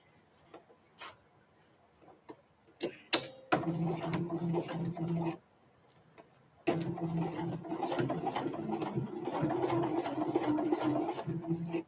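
A sewing machine runs along a previous seam in short bursts, its steady mechanical whirr and needle rattle starting and stopping close by, with a brief pause in the middle before a longer continuous run.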